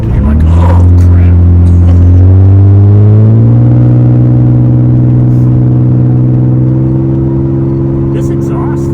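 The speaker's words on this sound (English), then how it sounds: "This exhaust sounds really good." Exhaust of a 1999 Plymouth Prowler rumbles loudly while driving, a deep steady drone that climbs slightly in pitch early on, with a voice talking over it at moments.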